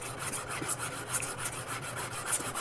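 A wenge guitar body is hand sanded along a radius, the abrasive rubbing steady and continuous in quick repeated strokes, close and moderately quiet with no talk.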